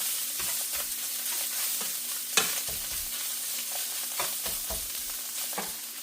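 Tortillas frying in a pan produce a steady close sizzle, broken by scraping and stirring clatter and a sharp clink partway through, with no voices.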